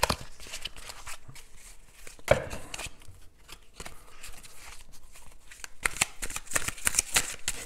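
Tarot cards are shuffled by hand at close range in a quiet room, giving repeated soft riffling and slapping bursts at an uneven rhythm.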